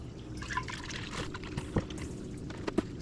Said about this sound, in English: take the milk, however much you want to make, and pour it into your Instant Pot